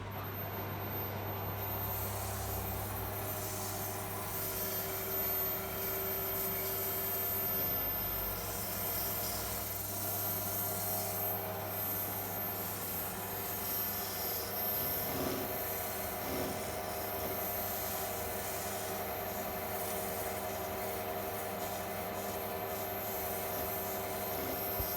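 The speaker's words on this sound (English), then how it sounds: "So let's get down to the sanding." A wooden Game of Thrones goblet being sanded smooth, a continuous close rubbing and abrasive hiss that runs steadily and evenly throughout with a faint hum beneath.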